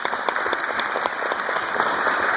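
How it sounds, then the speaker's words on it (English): An audience at Seth Franco's talk bursts into sustained applause, many hands clapping steadily and densely at moderate distance for the whole stretch, with no voices breaking through. "This is when you clap again"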